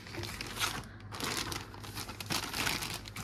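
Crinkling and rustling of a decorative IKEA bag being handled and set down during tidying, close and continuous with soft crackly bursts, no talking.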